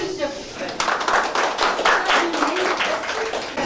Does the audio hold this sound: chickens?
no